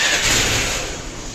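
Suzuki Access 125 scooter engine running after a CVT belt and roller change, a brief close motor drone with a slight rise then easing off, heard on its own.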